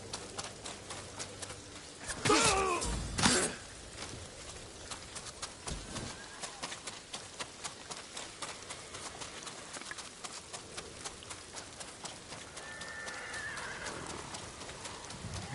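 The horse Kaze in Ghost of Tsushima neighs loudly twice in quick succession, then its hooves beat in a steady galloping rhythm under the game's ambient sound.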